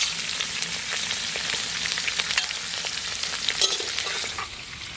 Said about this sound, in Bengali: ফুলকপি আর আলুটা ভেজে নেব।